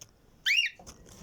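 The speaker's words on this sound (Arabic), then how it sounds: "الصوت اللي انتوا سامعينه ده صوت الكوكتيل" A pet cockatiel gives one short, bright, rising-and-falling whistled call in a quiet room, followed by a faint second chirp.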